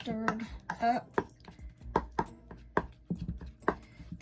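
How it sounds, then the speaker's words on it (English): Skin salve ingredients are stirred up by hand without a whisk, giving quick, irregular knocks and scrapes of a utensil against a container, close and fairly faint. "I'm just getting this all stirred up"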